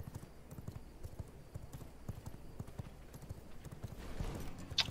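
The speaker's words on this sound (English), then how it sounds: "Sam, what's the name of the horse you're on?" Horse hooves clip-clop steadily as a character rides in the video game V Rising, a quick even rhythm of soft thuds that continues throughout, fairly quiet, with no talking.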